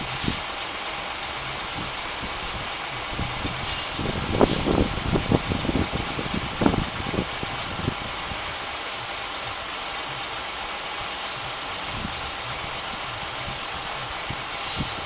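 A 2006 Pontiac Grand Prix engine idles with a steady low hum, interrupted midway by a few seconds of uneven knocking and rattling before settling back to a smooth idle.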